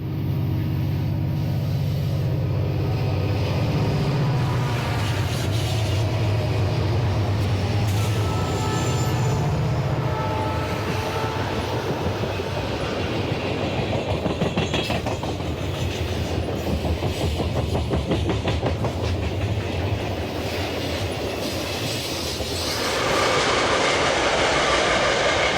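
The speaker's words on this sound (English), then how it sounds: "An eastbound passes the lead off of the main" Santa Fe eastbound freight train passing the lead off the main line near a carbon plant, a long steady rumble with clickety-clack of wheels and occasional squeal, growing busier midway and fading slightly near the end.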